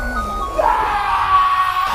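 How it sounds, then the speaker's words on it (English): A man lets out a strained, rising scream of pain, one sustained cry lasting about a second. "screams in pain"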